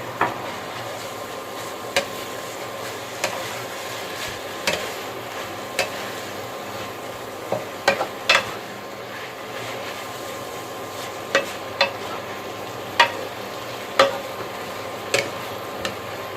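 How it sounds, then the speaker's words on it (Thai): Glass noodles with egg stir-fried in a pan: a soft, steady sizzle under sharp spatula taps and scrapes against the metal, coming every second or so at an uneven pace. "เราผัดให้น้ำแห้ง"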